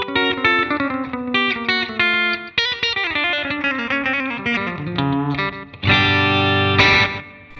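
A Hagstrom Ultra Max electric guitar on its bridge pickup plays a clean, compressed, twangy country-style phrase, with bright plucked single notes and ringing chords, close and alone.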